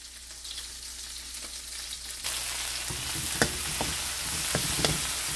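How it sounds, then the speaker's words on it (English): Leek sautés in a cooking pot, with a steady sizzle that grows fuller partway through, broken by occasional clicks and knocks of stirring, close and without speech. "So I'm going to saute first my leek."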